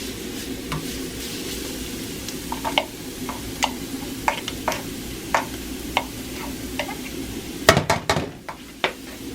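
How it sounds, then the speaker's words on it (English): Garlic sizzles and stirs in a combination wok and frying pan, a steady hiss broken by frequent sharp scrapes and clinks of a utensil against the metal, with a louder cluster of clatter near the end. "what you want to do is pretty much melt the garlic down"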